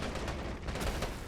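Fort wall defenders open fire during the siege of Tobruk in a war video game, a dense continuous crackle of gunfire and distant blasts blended into one steady roar.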